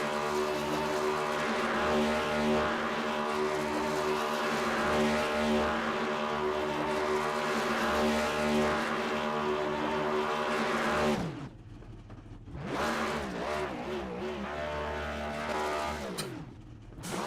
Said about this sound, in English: These are some terrible burnouts here.